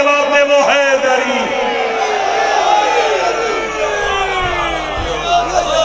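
A large crowd of mourners at a Shia majlis for a religious slogan shouts back in unison, a loud roaring chant that swells and sustains for several seconds with overlapping voices.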